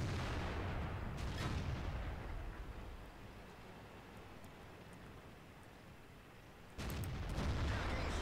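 World of Tanks cannon fire: a heavy boom rolls out early, then a rumbling battlefield lull follows before another loud, deep shot near the end, with no voices.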